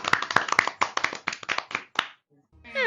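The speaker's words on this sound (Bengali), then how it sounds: "হাততালি।" Quick bursts of cartoon clapping in a fox cartoon about a rooster fight, a rapid uneven run of sharp claps for about two seconds, then a short gap before a voice begins.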